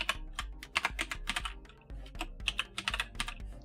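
Code is being typed in Notepad++ on a computer keyboard: a rapid, irregular run of close, crisp key clicks that pause briefly midway and then resume.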